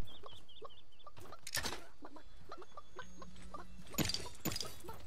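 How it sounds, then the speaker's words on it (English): Chickens in a video game, likely a battle royale, cluck repeatedly in short bursts under faint background noise, with louder game sounds breaking in now and then. "there is a chicken"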